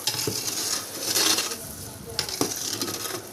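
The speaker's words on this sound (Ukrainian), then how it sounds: "От почав нормально кипіти цукор." Sugar syrup sizzles and bubbles in a pot with a steady hiss, a couple of soft knocks and clinks as it starts to boil.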